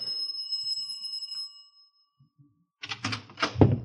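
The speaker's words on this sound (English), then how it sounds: "I rang the bell." In a radio drama, a front-door bell gives a clear ringing chime that lingers and fades, followed after a short silence by voices talking.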